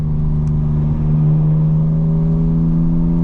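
A 900hp 2025 BMW M4 Competition xDrive engine idles and hums steadily up close, a loud, continuous low drone with strong harmonics and no talking.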